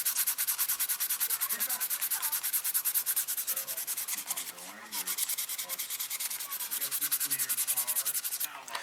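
Sandpaper rubs in quick, steady back-and-forth strokes across a sofubi vinyl figure kit. The close, rhythmic scratching continues through the whole stretch, pausing only once briefly, with no talk.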